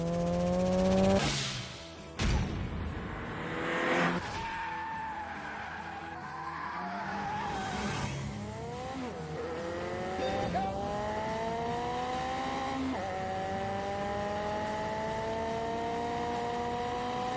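A Ford Sierra RS Cosworth is driven hard, its engine rising and falling through gears with long squealing tire skids, loud and close, without talk.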